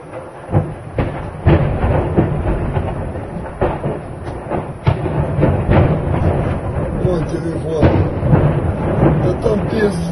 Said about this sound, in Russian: там такие взрывы ебануться